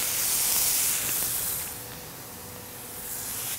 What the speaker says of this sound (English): we're gonna cover them with a bowl and spray some water in there to steam the top